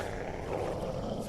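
A person imitates a small wolf growl, a short low rumbling grunt held for about a second, close and fairly loud.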